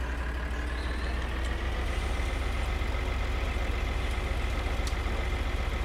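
A tractor engine keeps running with a cultivator working in Farming Simulator 2013, a constant low droning hum, steady and unbroken, with faint mechanical ticks on top.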